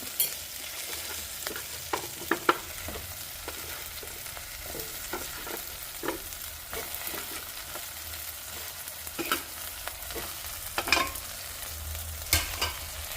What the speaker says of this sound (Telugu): ఇప్పుడు గుమ్మడికాయ ముక్కలు వేసుకోవాలి